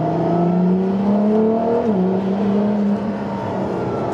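A camouflage-wrapped Ferrari LaFerrari hybrid supercar revs hard, heard from inside with the window closed, its engine note climbing in pitch, dipping briefly at a shift, then holding a strong, sustained, close-up roar.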